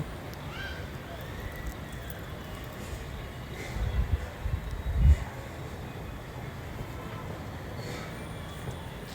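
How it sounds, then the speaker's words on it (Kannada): The Siddaganga superfast train pulls into Hubballi junction with a steady low rumble of wheels and carriages and a louder surge midway, all under a busy station background. "ನಮ್ಮ ಟ್ರೈನ್ ಈಗ ಎಂಟ್ರಿ ಆಗ್ತಾ ಇದೆ"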